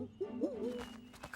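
Cartoon owls from a children's animated series about mechanical origami animals hoot in a few quick, warbling, rising and falling calls, clear and close over a soft music bed.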